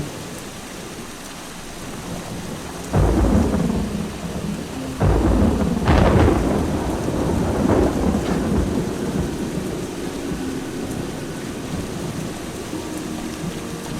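Rain and rolling thunder in the fantasy role-playing game Eschalon: Book II: a steady wash of rainfall with several loud thunder cracks and rumbles, the biggest around the middle, then fading to continuous rain.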